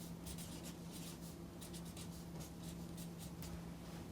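Someone writes on a classroom board in quick bursts of scratchy strokes, with steady rhythmic pen or marker sounds separated by short gaps, fairly quiet and close, with no talking.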